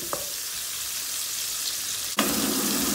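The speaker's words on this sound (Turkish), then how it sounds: "Ortalama 1 dakika kadar da biberle şöyle bir kavurayım." Peppers sautéing in a very hot pan, a steady loud sizzle with a sharp burst of hissing when more is stirred or added near the end, close and continuous without talk.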